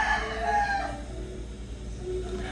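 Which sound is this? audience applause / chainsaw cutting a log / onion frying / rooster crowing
rooster crowing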